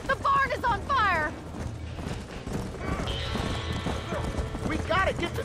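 Horse hooves clip-clop with a neigh amid a chaotic scene in the video game Red Dead, with a barn on fire, shouting voices and crashing noise mixed in, fairly loud.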